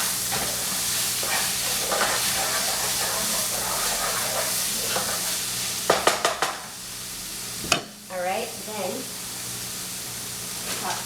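Soya pasta with black pepper is stirred in a frying pan under a steady sizzle, with a few scraping knocks of the utensil against the pan and a person talking over it.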